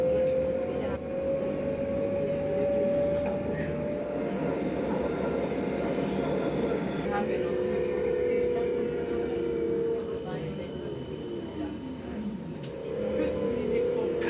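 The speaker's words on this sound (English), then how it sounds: "As I ride along, I'm beginning to think that all put together, the towns along the tram line" Interior of a Belgian coastal tram (Kusttram) in motion, a steady rumble of wheels and motor with a sustained tonal whine that rises and falls, while someone narrates over it.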